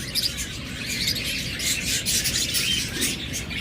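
A pair of pet cage birds chirp busily, with rapid overlapping high tweets and calls that continue throughout, fairly close with no voices.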